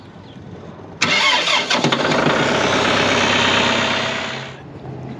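An old farm feed wagon's engine cranks and catches at about one second, then settles into a loud, steady running roar close by that eases slightly near the end.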